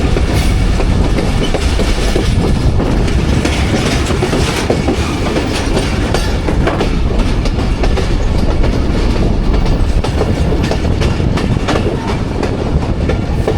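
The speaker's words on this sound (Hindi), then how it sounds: "शाहीनाबाद जंक्शन रेलवे स्टेशन पे अप्रोच बना रही है 18 डाउन मिल्लत एक्सप्रेस" Inside the 18 Down Millat Express as it approaches Shahinabad Junction, a loud, constant rumble of wheels and clattering rail joints carries on without pause and without speech.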